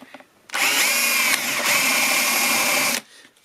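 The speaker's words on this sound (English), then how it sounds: "we're going to start off with a 3/8 drill bit that's got a sharp point to it" A power drill fitted with a sharp-pointed 3/8 bit whines loudly for about two and a half seconds, dipping briefly midway, then stops; faint background before and after.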